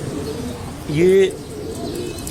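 A Sialkoti pigeon gives a single soft, close coo, with a voice speaking faintly around it.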